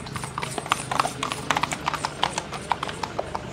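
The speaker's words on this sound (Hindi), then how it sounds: "ये देखिए तगड़े तगड़े घोड़े भाई ये देखो" Horses' hooves clopping on the ground at the Maghi Mela horse fair in Muktsar, a close, brisk run of repeated clip-clop beats over a busy outdoor background.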